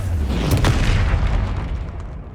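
A Confringo fire-blast spell from Hogwarts Legacy detonates in a loud, booming explosion with a sharp crack near the start, followed by a rumbling roar that lingers and slowly fades.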